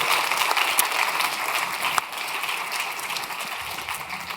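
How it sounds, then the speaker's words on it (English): An audience at the LIFE Awards 2023 ceremony gives a sustained round of applause, a steady crowd clapping that fades slightly toward the end. "A warm round of applause,"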